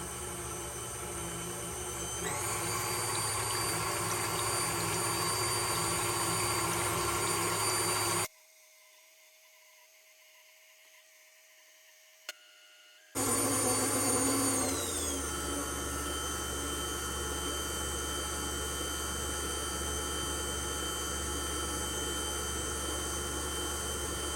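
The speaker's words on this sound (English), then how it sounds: "we're gonna whip this up to stiff peaks" Electric mixer whipping cream to stiff peaks for homemade chocolate ice cream, a loud steady whirring drone that runs, stops for a few seconds of near silence, then starts again and settles into a lower, steady hum.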